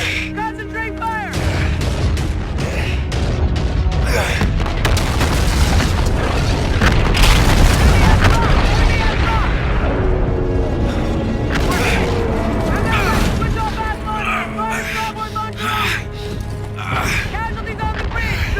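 Naval battle in Call of Duty Infinite Warfare: heavy booms, explosions and mechanical clatter pile up in a loud, continuous barrage while voices shout orders over the din.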